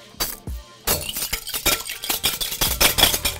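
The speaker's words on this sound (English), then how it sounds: "Give it a whisk." Eggs for a bagel French toast egg wash being whisked in a bowl, with rapid rhythmic clinking and tapping of the whisk against the bowl after a brief knock, close and fairly loud.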